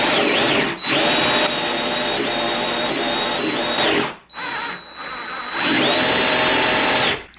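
Power drill boring into wood for a wooden pipe, a loud, close, high whine running in two long bursts with a short pause between them and a brief dip in between.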